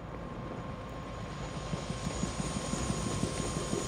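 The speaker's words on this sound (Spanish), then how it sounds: "Vale, pues nada, vamos a meternos al helicóptero." A helicopter in the video game Prey thrums with a steady rotor chop and rising engine whir, fairly faint and alone with no talk.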